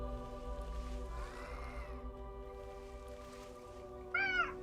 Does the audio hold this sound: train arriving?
no